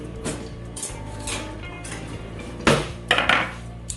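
Potatoes are dropped into a greasy skillet, giving clattering pan knocks and bursts of sizzling spatter, close and fairly loud.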